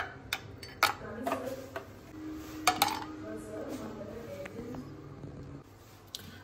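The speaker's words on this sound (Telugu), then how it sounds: "నెక్స్ట్ మనం ఐస్ వేసుకుందాం" Ice cubes drop into a glass for cold coffee, a few sharp clinks and knocks spread over several seconds, fairly quiet, with faint room noise between them.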